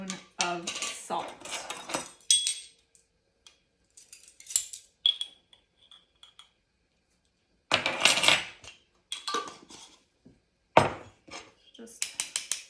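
Flour, baking powder and salt for salted caramel cookie dough being sifted in a metal sifter: close, intermittent bursts of rattling, scraping clinks separated by quiet pauses.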